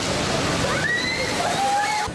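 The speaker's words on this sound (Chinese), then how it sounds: "不少人会在这里听澎湃海浪涌入洞口" Sea waves surge and slosh into a rocky coastal sea cave at Cape D'Aguilar, Hong Kong, a loud churning wash of water with a faint high tone drifting over it.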